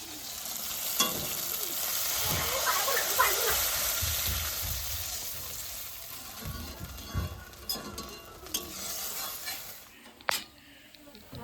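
Water poured onto fried spice masala for a fish curry sets off a loud, close hiss that gradually dies down into gentler bubbling, with a few utensil clinks and some faint talk near the end.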